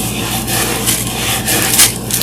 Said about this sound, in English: We scrub vertically and horizontally because on most surfaces you can get the pattern of your scrub brush